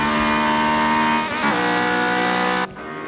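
A race car engine in Forza 7 on the Monza circuit holds a loud, steady high-pitched drone, dipping briefly as the revs shift mid-run before cutting to a lower tone near the end.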